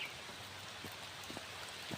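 Rain falling outdoors as a faint, steady patter with a few sharper drops landing nearby, continuous and soft, with no talking.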